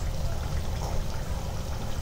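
Medu vada made from sama rice batter deep frying in hot oil, a steady dense sizzle and bubbling crackle held at even loudness throughout.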